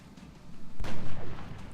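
A sniper rifle shot in the strategy game XCOM Long War, a single sharp, booming report partway through, followed by a short rolling echo over quiet background.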